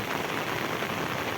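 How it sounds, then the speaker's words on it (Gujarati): Very heavy rain pours down in Vejalka during a thunderstorm, a dense, steady roar of hiss with no break for its whole short length. "અતિ ભારે વરસાદ આવતા જુઓ"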